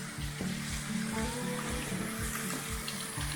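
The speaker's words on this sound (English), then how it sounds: "But this is the sound of the water we were hearing." Runoff water cascading down a rock face beside the Linn Cove Viaduct on a mountain roadside: a close, continuous rushing splash with a steady hiss, and no voices.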